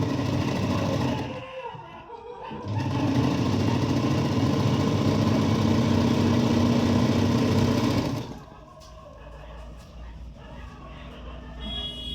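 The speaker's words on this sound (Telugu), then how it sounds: "ఇంకా మిషన్ స్టార్ట్ చేసేసుకున్నా జస్ట్ కొత్త క్లాత్ పెట్టేసి" A sewing machine with fresh cloth fitted runs in a loud continuous motor whir close by, briefly dipping near the start, then stopping abruptly toward the end, leaving quieter room sound.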